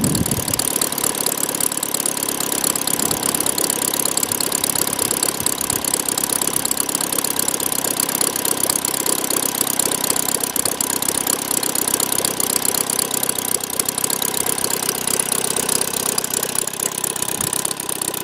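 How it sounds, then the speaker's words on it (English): A small OS IL-300 model airplane engine converted to gas on a 20:1 mix, idling steadily and loudly for the whole stretch, with a buzzy, rattling drone and no pauses or voices. "I have left this engine idling there for 15 minutes"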